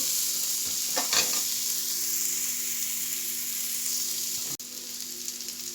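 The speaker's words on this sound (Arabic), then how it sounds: "هنشوح البصلة كده، طبعا مش هنحمرها، يا دوبك تدبل معانا. وهنضيف عليها الفراخ" Onion and chicken sauté in a pan on a home gas stove, giving a steady close broadband sizzle with a few brief stirring scrapes near the start and a sharp clack near the end, no talking.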